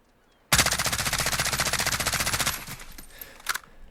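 An AAC Honey Badger rifle in Call of Duty Modern Warfare fires one long, loud, rapid full-auto burst of about two seconds, with evenly spaced shots, then trails off into a short echoing tail and a final shot.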